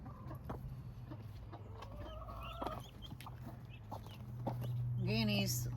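Young guinea fowl keets being raised by a hen, with soft clucks and chirps scattered through the clip, a brief louder call near the end, and a steady low hum underneath.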